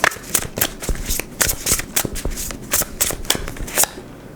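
Tarot cards are shuffled close up in quick, crisp riffles and slaps, a dense run of papery bursts lasting several seconds with no talk over them.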